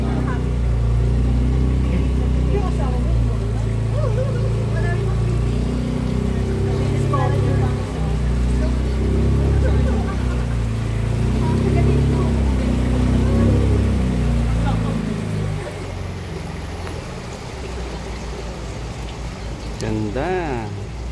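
Motorboat engine droning loud and close in a steady low rumble at a Bataan heritage resort, easing slightly toward the end, with people talking over it.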